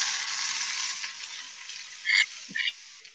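Waffle House hashbrowns pressed flat on a hot griddle give a loud, steady sizzle, joined near the end by two short metallic scrapes and clicks of the press or spatula.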